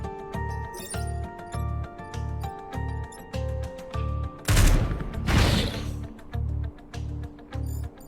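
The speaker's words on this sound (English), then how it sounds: "I may as well missile barrage now" Missile barrage in Into the Breach: a sudden noisy burst of explosive impacts, two close blasts in quick succession, rising out of a steady rhythmic electronic music loop that pulses before and after.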